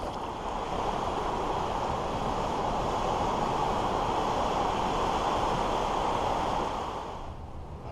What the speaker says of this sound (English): There's hardly any wind. The waves are small.